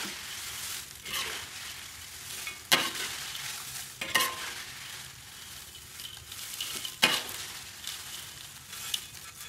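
Oil sizzles steadily as atom crackers fry, with sharp scraping stirs cutting through every second or so, close and even throughout.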